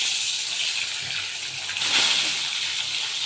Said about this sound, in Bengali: এখন আমি ডিমটা ভেজে নিব।